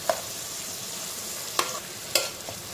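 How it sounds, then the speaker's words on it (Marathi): Vegetables sauté gently in a pan over a low gas flame, a quiet continuous sizzle broken by three sharp spoon taps against the pan, close and fairly soft, with nobody speaking. "साधारण 1 ते 2 मिनटासाठी याला फ्राय करून घ्यायचं आपल्याला."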